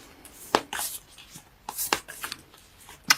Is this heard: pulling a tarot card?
yes